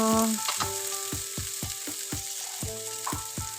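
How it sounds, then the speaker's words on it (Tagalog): Dal sautés in a pan with sweet potato leaves. A bright, steady sizzle runs under a regular series of sharp clinks from the stirring utensil, while faint tonal sounds hum in the background. "Ayan, nagigisa na tayo."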